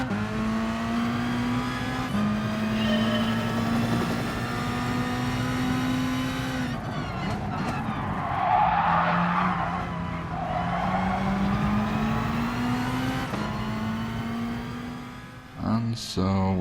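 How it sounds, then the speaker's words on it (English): A Peugeot Gr.B rally car races around the Alsace Village circuit in Gran Turismo Sport, its engine droning steadily with repeated rising revs through gear changes and bursts of tire squeal, while a voice talks over it. "Alsace Village Gr.B race 2 laps in a Peugeot Gr.B rally"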